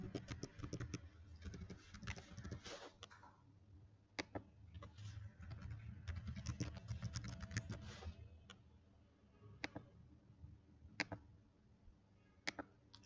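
Typing on a computer keyboard while entering population and family-card data into a form, with irregular clusters of soft key clicks and occasional sharper taps, fairly quiet and close, no talking.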